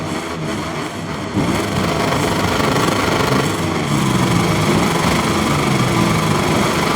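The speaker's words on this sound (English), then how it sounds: "It's going to be full throttle, lights out, and we are racing here in the Italian Grand Prix." Revving motorcycle engines at the start of the Italian Grand Prix in the MotoGP 23 video game, a loud, continuous engine roar that holds steady through the whole stretch.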